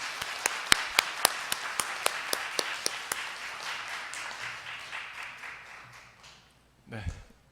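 A church congregation claps together at a Christmas service, about a dozen sharp, even claps that then spread into scattered applause, followed by a short thump near the end.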